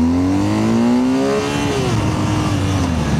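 A BMW R 12 G/S motorcycle accelerates hard in first gear, its engine note loud and close, rising steeply in pitch, then settling into a steady roar with a slight shift.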